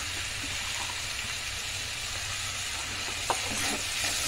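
Keema frying in a little oil with spices, sizzling steadily up close while it is stirred, with a brief spoon scrape on the pan partway through.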